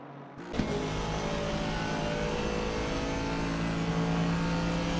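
Aston Martin and BMW race cars in a racing video game at Monza, running close together in the slipstream on the straight; a loud, steady engine drone begins abruptly and holds at constant volume throughout.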